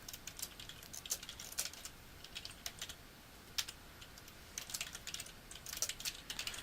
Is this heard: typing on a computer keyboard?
yes